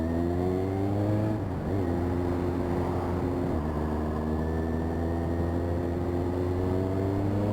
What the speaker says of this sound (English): Two BMWs, neither of them willing to give up position on the road.